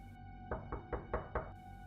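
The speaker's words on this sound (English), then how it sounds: "a knock echoed through the stillness" Five evenly spaced knocks on a door sound across a quiet street in a suspenseful story, firm and slightly distant over a soft steady hum.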